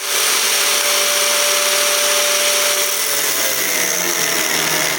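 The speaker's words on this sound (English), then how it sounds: "we're just going to take our angle grinder and just cut right down the middle" An angle grinder whines loudly and steadily, cutting down the middle of a metal seam with a high, harsh screech throughout.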